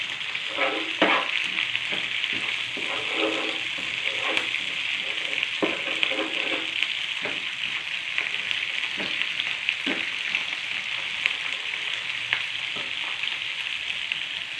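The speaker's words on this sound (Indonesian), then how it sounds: "Ini ya teman-teman bumbu yang tadi saya haluskan, kita tumis ya." Ground spice paste for Betawi semur jengkol sautéing in hot oil, a continuous loud sizzle with regular spatula scrapes and taps throughout, close up.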